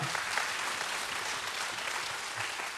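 Congregational applause fills an all-generation Korean church worship service at Daegu Hana Church: dense, steady clapping from many hands that holds even for about three seconds, with no voices above it.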